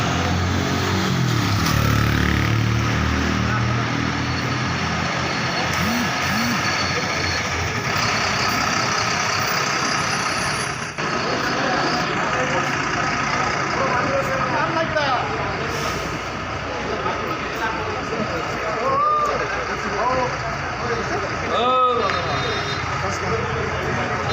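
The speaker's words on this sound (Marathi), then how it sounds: "ही आमची यात्रेची गाडी।" Engine of a trip bus idling and rumbling steadily with occasional air-brake hisses, heard close under ongoing voices of passengers talking.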